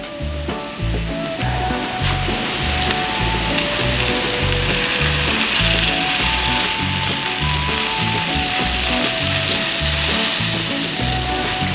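Potatoes frying in a pan, a loud, steady, close-up sizzle with constant crackling and spattering, alongside a low rhythmic background hum with faint tonal notes.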